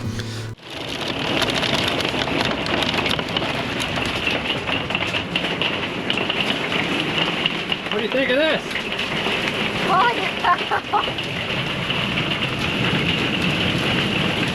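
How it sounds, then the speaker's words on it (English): Steady, heavy rain and hail roar throughout, a dense hiss of drops pounding surfaces, with brief voices talking partway through. "We got rain, we got hail."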